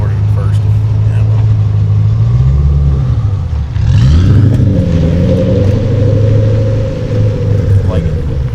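An LS3 V8-swapped Subaru BRZ rumbles loudly, and its engine note rises as the car accelerates partway through. A person talks over the engine.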